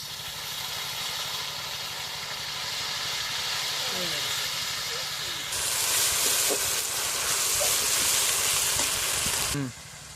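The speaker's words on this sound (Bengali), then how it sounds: "আমার পেঁয়াজগুলো ভালোভাবে ভাজা হয়ে গেছে এবার আমি এই যে জিরে বাটাটা দিয়ে দেবো" Fried onions sizzle loudly in a pan as cumin paste goes in, a dense hissing sizzle that surges louder midway, with a few utensil scrapes and clinks before it drops back.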